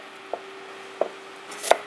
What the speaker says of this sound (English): cut the apple into small cubes